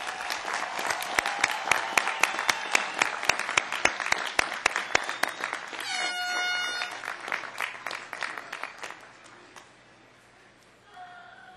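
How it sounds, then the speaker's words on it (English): Graduation crowd at a College of Engineering commencement breaks into rhythmic clapping, loud and regular, then dissolves into a roar of applause before fading toward quiet. "please join me in a big round of applause for the Cal Poly Pomona College of Engineering"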